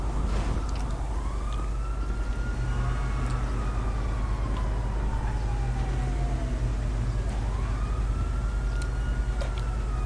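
A police car siren wails in a rising and falling tone, sweeping up and down twice over a constant low engine rumble, fairly loud and close with no talking.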